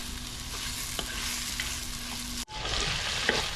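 Ingredients sautéing in a pan give a steady, fairly quiet sizzle with occasional stirring scrapes and a brief dip partway through.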